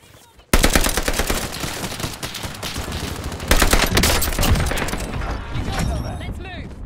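Dense automatic gunfire in Call of Duty Warzone opens abruptly, with rapid crackling bursts, a louder volley midway and sporadic shots tailing off toward the end, close and loud. A voice speaks briefly under the shooting.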